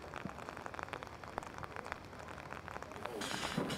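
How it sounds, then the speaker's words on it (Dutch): Steady heavy rain pours down in a dense, continuous hiss, heard alone without voices and growing slightly louder toward the end. "En al regende het dan ook dag in dag uit pijpenstelen"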